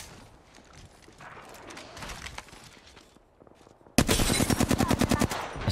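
Rapid automatic gunfire in a first-person shooter video game, a few scattered shots first, then a loud, fast burst of evenly spaced rounds in the final second and a half.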